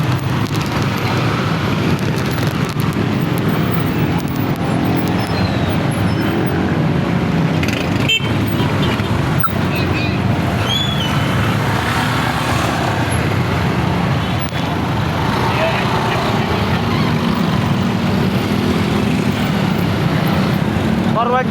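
Roadside traffic with tricycles turning nearby: a continuous rumble of passing motor vehicles and engines, with people talking over it throughout.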